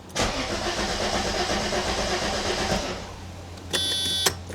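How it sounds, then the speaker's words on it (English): A Mercedes-Benz engine cranks and turns over after the fuel pump is cycled, a loud, rough churning that runs for a few seconds, then drops away as a high electronic warning chime sounds briefly. "Cycling the pump. And let's see what happens."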